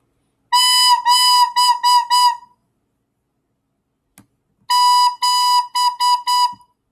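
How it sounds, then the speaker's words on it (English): Two bursts of a bright, breathy recorder tone played with one hole left uncovered, each a run of five short notes with a quiet tap between, played alone and fairly close. "I'm going to play it one time where the entire time that hole isn't covered."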